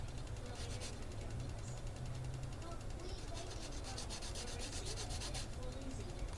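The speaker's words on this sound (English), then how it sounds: "I'll do the same thing as before and just sand where that was attached to this" Plastic model kit parts for a Monogram Panzer IV are sanded where they joined the runner, a soft, continuous rasping scrub with rhythmic strokes, close and fairly quiet.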